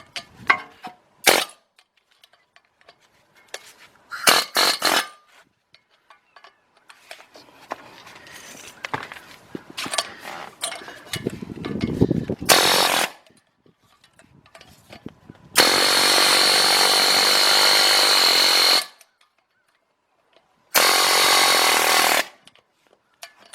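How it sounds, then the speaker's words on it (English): A chisel is driven around the front axle of a 2006 Kia Sorento LX, with sharp metallic bangs and short clattering bursts, then long loud buzzing runs of a pneumatic tool with pauses between. "try to chisel enough of this around this"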